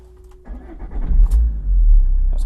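A 1.9 turbo diesel car engine rumbles low and steady at close range, rising in level after a brief quieter start and holding a continuous idle-to-rev drone with no talk.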